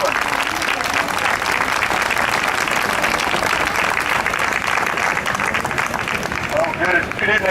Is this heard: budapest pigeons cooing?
no